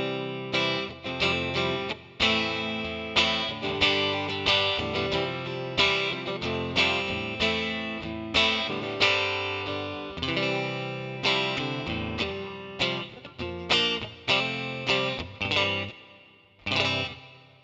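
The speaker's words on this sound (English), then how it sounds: "There's quite a lot of reverb there." Electric guitar played through a Fractal FM3 with heavy reverb and chorus-like modulation, strummed chords and riffs in a steady rhythm with long washy tails, loud and upfront with no voices.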